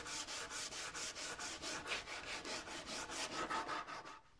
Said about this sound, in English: now I'm going to sand the fill and the project at the same time